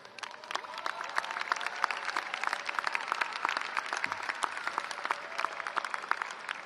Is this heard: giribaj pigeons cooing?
no